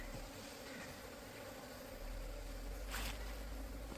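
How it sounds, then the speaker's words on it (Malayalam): Honeybees buzz around wooden beehive frames after being moved from a plastic can into a hive, a steady, faint, continuous hum with no talking. "ഈ പലകമ്മലൊക്കെ ഒരുപാട് തേനീച്ചകൾ വന്നിട്ട് തേനൊക്കെ കുടിക്കാൻ വേണ്ടി വന്നിട്ടുണ്ട്"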